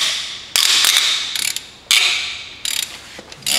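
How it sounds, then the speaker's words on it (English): A half inch ratchet turning cylinder head bolts on an Audi/VW 1.8L engine clicks in loud, rapid pawl bursts, several separate strokes with brief pauses between them, close up. "I'm just using my half inch ratchet."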